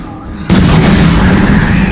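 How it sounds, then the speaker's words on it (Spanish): Bomb explosion in the Resident Evil 7 video game: a sudden loud boom erupts after a quiet moment and rumbles on as a dense, sustained roar, with no talking over it. "vamos a ponerle una bomba"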